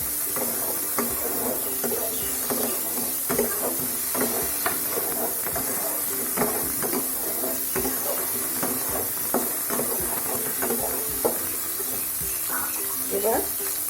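Peas, chopped tomato and green chillies sizzle steadily in hot oil in a pan, with a continuous frying hiss and scattered crackles and pops throughout, close and moderately loud.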